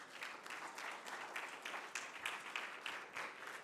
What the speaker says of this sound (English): Please give them all a big round of applause for their support of this year's event.